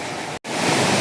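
Chandranagar waterfall pours with a steady, loud broadband roar of rushing water, cut by a brief silent dropout just before the midpoint before the rush resumes.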